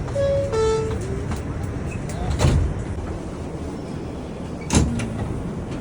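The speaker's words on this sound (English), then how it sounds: "Stand clear of the closing doors, please." On an R160 G train in the subway, a muffled two-tone door chime sounds, then the doors thud shut twice over a steady rumble of the train.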